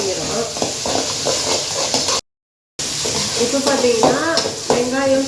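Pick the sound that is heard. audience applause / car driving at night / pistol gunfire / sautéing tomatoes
sautéing tomatoes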